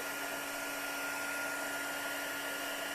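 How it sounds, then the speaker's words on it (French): A heat gun blows hot air while decorating a candle with a stamp transfer, giving a steady, close, continuous whooshing whir with a faint tonal hum throughout. "Je vais utiliser mon pistolet chauffant. Donc, c'est un petit peu bruyant."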